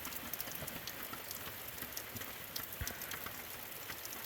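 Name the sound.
rain from a passing thunderstorm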